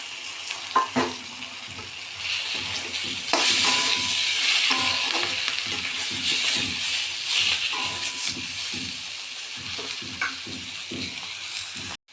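Chopped tomatoes fry with ground spices in a pan for an egg curry. A steady, hissing sizzle runs throughout, with a spatula scraping and stirring in repeated strokes nearby.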